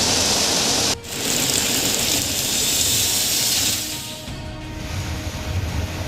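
Heavy rain falls in a city during Cyclone Tauktae, a dense continuous hiss of downpour that briefly dips after a second, then eases somewhat near the end.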